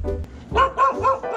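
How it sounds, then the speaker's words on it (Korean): Small dogs at a pet-friendly resort in Yangpyeong give a few short, close barks in a quick rhythm, with faint background noise between them. "저 강아지"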